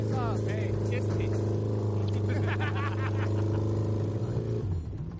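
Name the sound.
engine of a junkyard-built boat on water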